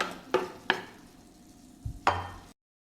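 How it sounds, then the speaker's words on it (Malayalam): Pieces of elephant foot yam are tossed and stirred in a pan. A handful of distinct scraping clacks are spaced out over a low background, and then the sound cuts off suddenly. "നമ്മുടെ ചേന കൂടൊന്ന് ഇട്ട് കൊടുക്കാം ഒന്ന് വഴട്ടി"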